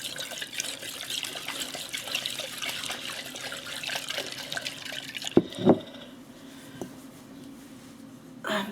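Kefir liquid swirled in a glass jar, a continuous watery sloshing with small drips for about five seconds, then a few sharp knocks and clinks before quieter room sound.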